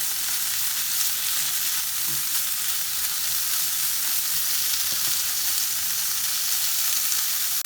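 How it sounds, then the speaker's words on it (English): A steak sears in a hot pan still seasoned from peppers and onions, giving a steady, close sizzle and crackle of fat that holds evenly throughout with no talk. "I'm going to give this steak just a quick sear"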